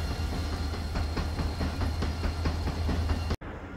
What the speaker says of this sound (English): we got a really loud flat spot around here